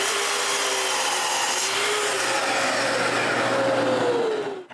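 A power saw slices a 22.5 degree cut through plywood, a loud steady whining roar that holds throughout, then winds down abruptly at the end.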